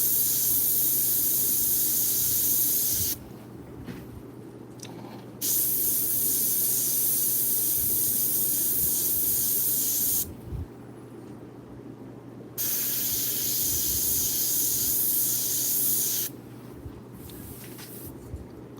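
An airbrush sprays paint in three sustained hissing bursts of a few seconds each, with short pauses between, while a steady low hum runs underneath throughout; a rose is being painted, adding green and pink.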